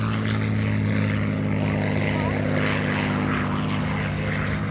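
A P-51 Mustang propeller warplane flies at a military base airshow, with a loud, steady droning engine and propeller roar that holds for the whole stretch.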